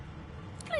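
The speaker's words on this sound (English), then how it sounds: "The dog whines and continues pawing at its nose." A dog in the fantasy role-playing game Divinity: Original Sin II whines in a short, faint, high whimper that rises near the end, over a low rumbling game background.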